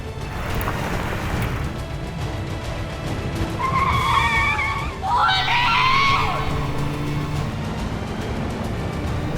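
A car skids to a stop on a road in a Hindi TV drama, the tire squeal rising loud mid-scene and sliding over about two seconds, amid screaming and background music.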